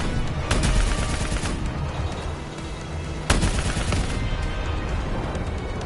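Sustained gunfire from a Call of Duty Black Ops 3 campaign battle, with dense bursts of automatic rifle and machine-gun fire running throughout and two sharp, louder shots standing out above the steady barrage.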